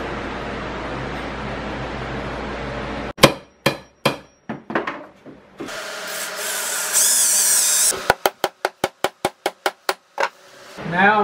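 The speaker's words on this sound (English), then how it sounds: "and then we're gonna put the nails in it." Nails hammered into a painted sign: a rapid run of sharp, loud metallic strikes at close range, then a stretch of rubbing or filing, then another steady series of about a dozen evenly spaced hammer blows, with no talking.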